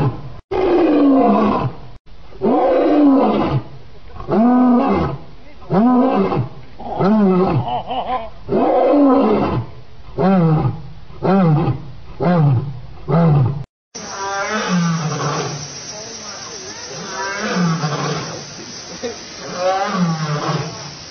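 A group of lions roars in a long series of deep, throaty calls, each swelling and fading in a rhythmic sequence of about a dozen grunting bursts, loud and close, with a denser overlapping chorus of roars toward the end.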